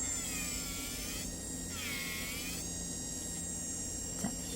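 An electric nail drill handpiece grinds gel polish off a fingernail, a steady high-pitched whine that dips in pitch midway as pressure is applied, then rises again.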